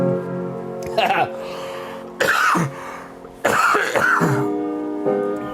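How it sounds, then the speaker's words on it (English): Someone coughs several times in harsh bursts over a steady piano tone, with vocal sounds mixed in between the coughs. "I've got a cough right now"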